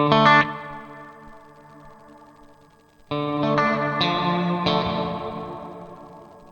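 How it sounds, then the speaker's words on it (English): An electric guitar run through a synth module with reverb at the end of the chain rings out in heavily processed chords, a strummed chord decaying, then a second burst of chords trailing off into a wash. "And there's a little bit of a reverb at the end of the signal chain."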